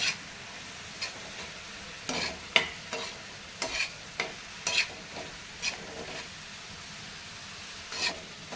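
Chopped capsicum sautéed in a pan for street-style masala pav, a soft steady sizzle broken by repeated scraping stirs of a spatula, close and alone with no talk.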